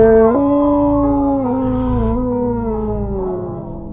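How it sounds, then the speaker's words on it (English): A monster's almighty roar in a horror audio story: one loud, drawn-out, howl-like cry that jumps up in pitch, then slowly sags and fades over several seconds, heard on its own. "an almighty roar came booming from outside"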